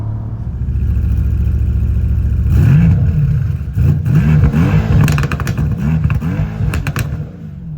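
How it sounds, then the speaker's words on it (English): A 2025 Bentley Flying Spur Speed V8 accelerates, its engine note rising and falling through rhythmic revs heard close and loud, with a steady hum underneath before the surge. "being able to hear that V8 coming out of the back of this car is just an absolute treat"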